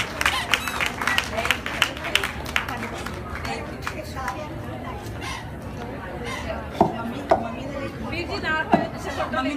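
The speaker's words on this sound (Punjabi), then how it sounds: "ਜ਼ੋਰਦਾਰ ਤਾੜੀਆਂ ਮਾਰੋ ਸਾਡੇ ਬਜ਼ੁਰਗਾਂ ਲਈ" Applause for the elders at a Mother's Day celebration in Surrey, Canada, scattered clapping over a crowd's steady chatter, with a few louder claps standing out near the end.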